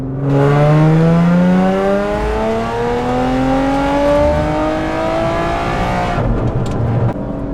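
A car running a water-methanol tune revs out hard through third gear, engine note climbing steadily in pitch, loud and close, then cutting off abruptly near the end.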